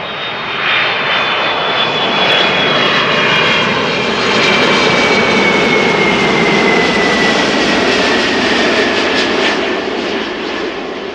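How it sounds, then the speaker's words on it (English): A 16-year-old Delta Airlines Airbus A330-300 jet, arriving from New York JFK at Amsterdam Schiphol, roars loud and steady for the whole stretch, its broad engine rumble carrying a high descending whine, with no voices. "A330-300 arrives from New York JFK"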